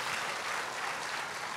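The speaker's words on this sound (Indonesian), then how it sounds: "beri tepuk tangan yang meriah buat Tuhan" A church congregation applauding, dense steady clapping heard from across the room at moderate loudness, brief and unbroken, with no talk on top.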